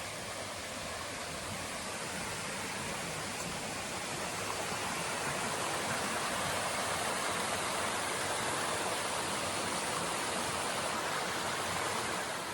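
Jacob's Brook rushes steadily along a hiking trail, a dense, unbroken wash of flowing water heard close and loud for the whole stretch with no voices.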